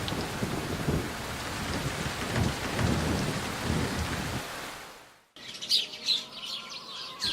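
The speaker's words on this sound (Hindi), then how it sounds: "बरसात के मौसम है, पानी का भरोसा नहीं है, कभी पानी गिर सकता है।" Steady rain pours with low rumbling thunder throughout, then cuts out briefly before a quieter stretch of rain with birds chirping over it.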